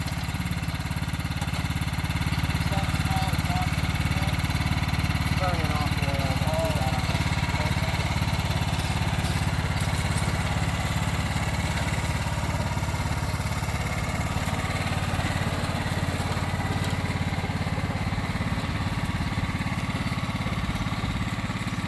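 A riding lawn mower with a swapped-in Kohler engine runs steadily nearby, a constant loud droning hum with a low rumble, sustained without pause throughout.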